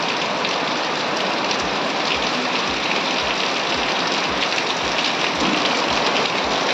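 Light rain falls steadily in a Tulu village setting, a continuous soft hiss with faint dripping on surfaces and occasional low thumps, close and unbroken throughout with no talking.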